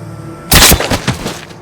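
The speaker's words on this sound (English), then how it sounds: "Only to instantly execute him using a pneumatic captive bolt pistol" A pneumatic captive bolt pistol fires once with a loud, close, sharp blast, trailed by a few rattling echoes and clatter that fade within a second.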